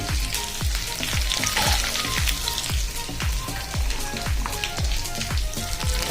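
Potatoes sizzle steadily in a hot pan for a kudri dish, a dense crackling fry with repeated soft clacks of a spatula stirring at a regular beat, close and continuous with no talk.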